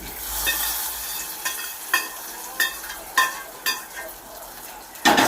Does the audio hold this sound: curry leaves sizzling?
yes